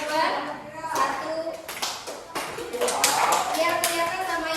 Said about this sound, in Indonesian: Kalau Ibu sebutkan tepuk satu kali, kalian tepuknya satu kali ke arah kanan.